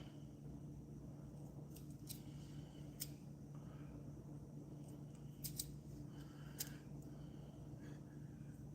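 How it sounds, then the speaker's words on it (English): Regular kitchen scissors snip around the edges of a cooked chaffle, a series of crisp, close cuts spread irregularly over a quiet kitchen background with no talking. "we're going to use the same kitchen scissors"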